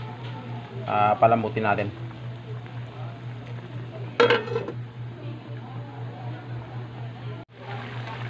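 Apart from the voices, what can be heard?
covering the cooking pot with its lid again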